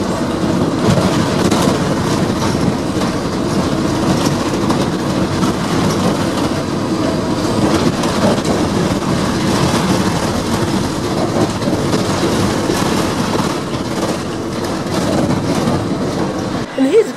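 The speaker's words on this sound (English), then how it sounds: "The track is so knackered that the tram is clunking over the track" A tram in Lviv rolls slowly over badly worn, neglected tracks, giving a steady loud rumble with irregular clunks and rattles throughout, close by and continuous.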